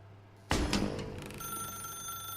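A telephone rings inside The Stanley Parable game, an abrupt loud ring with a shimmering bell-like decay followed by a sustained electronic tone, heard alone without talk.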